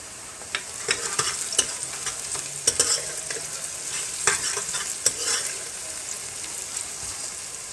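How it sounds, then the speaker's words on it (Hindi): Cumin seeds frying in hot oil in a pressure cooker with onions while cooking green chilli mutton karahi, giving a steady sizzle with repeated clicks and scrapes of stirring, close and fairly loud. "अब इसमें ज़ीरा डाल देंगे"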